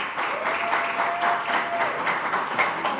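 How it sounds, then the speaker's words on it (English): Audience at a startup pitch event gives sustained, even applause for a winner, a dense wash of clapping at moderate volume with a faint tone running under it and no talking. "A round of applause for her."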